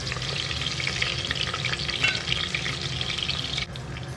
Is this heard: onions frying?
yes